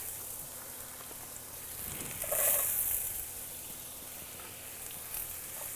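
Carrots hitting a ripping hot pan, a faint steady sizzle with a brief louder hiss in the middle as they are tossed, then settling back to a low crackle.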